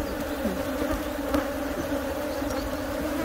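Honey bees emerging from brood drone in a dense, continuous hum inside a hive during a colony split, close and steady with no talk.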